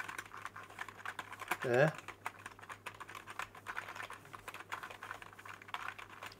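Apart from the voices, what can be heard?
typing on a 60% wireless gaming keyboard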